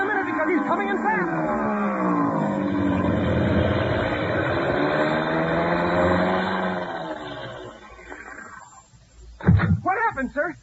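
An airplane engine in a radio drama droning loudly as the plane comes in to land, its pitch sliding down and fading out before a voice starts talking.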